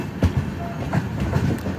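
The Godavari Express runs on rails, giving a steady rumble with a few rhythmic wheel clacks over joints, heard from close by inside the train.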